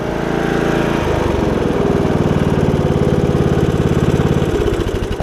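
Single-cylinder Briggs and Stratton riding mower engine, fresh after a carburetor replacement, runs steadily and loudly up close with an even, throbbing idle-to-mid rev that holds without breaks.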